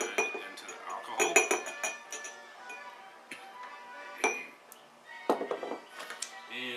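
Oxalic acid crystals tipped into alcohol in a container, producing a run of sharp clinks and rattles against glass and metal, close and moderately loud with short pauses between bursts.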